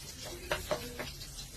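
Onions dropped into hot oil for escabecheng tuyo give a faint, steady sizzle, broken by a few short clicks and stirring knocks from the pan.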